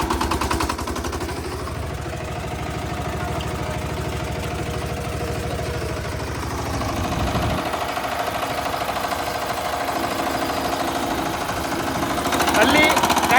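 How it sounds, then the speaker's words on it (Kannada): A traditional sugarcane crusher driven by a tractor runs with a steady, loud mechanical drone and rapid rhythmic clatter, the engine pitch shifting midway, while a person talks over it. "ಅಲ್ಲಿ ಟ್ರ್ಯಾಕ್ಟರ್ ಚಾಲ ಮಾಡ್ತಾರೆ ನೋಡಿ. ಇಲ್ಲಿ ಕಬ್ಬು ಒಳಗೆ ಹೋಗುತ್ತೆ."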